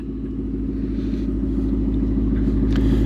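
A 2024 Ford Mustang Dark Horse with an X-pipe exhaust rolls downhill in neutral, giving a steady low rumble close by that swells slightly over a few seconds, with no talking.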